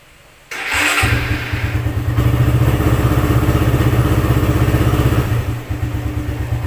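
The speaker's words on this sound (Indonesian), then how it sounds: "sekarang kita coba starter" A motorcycle electric starter, running on a lithium 18650 battery pack, briefly cranks the engine, which catches and settles into a loud, close, steady idle with a rapid pulsing rhythm that dips slightly near the end.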